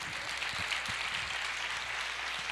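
Faint, steady applause from a church congregation during a service, a dense patter of hand claps continuing evenly with a few distinct claps standing out.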